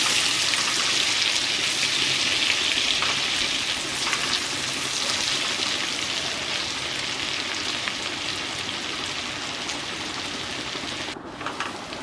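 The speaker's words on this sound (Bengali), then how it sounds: "পেঁয়াজটাকে ভালো করে ভেজে নেব।" Chopped onion frying in oil in a pan for Bengali-style rohu fish kalia, giving a steady, close, dense sizzle with no talking.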